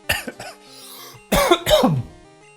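A person coughs several times in short, sharp bursts while playing a Pokémon game, with quiet game music beeping in the background.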